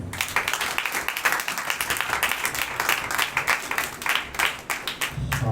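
Enthusiastic church congregation applause, a dense steady clapping from many hands that carries on throughout.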